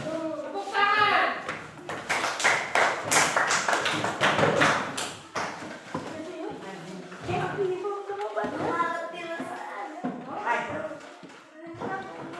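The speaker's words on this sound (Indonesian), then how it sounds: "Tepuk tangan." Classroom applause from children, a burst of quick scattered clapping that swells and then fades, with kids talking and murmuring around it.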